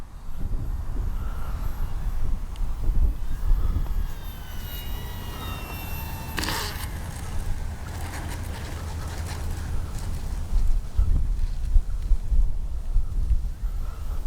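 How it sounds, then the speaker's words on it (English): Strong wind buffets the microphone's wind muff at an RC model airfield, a steady loud low rumble with gusts swelling and fading. A faint higher whine passes briefly in the background. "if y'all hear that wind, that's over the electronic filters and the wind muff"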